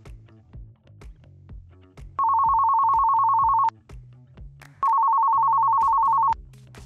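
A telephone ringtone in a call center system demo for Amazon Connect sounds in two long, loud, steady electronic bursts over soft low background tones.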